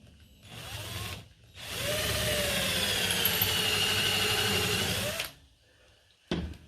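Power drill boring a hole in a stingless bee box from a flat pack kit, a short whirr, a pause, then a longer steady high-pitched drilling run that winds down, close and loud.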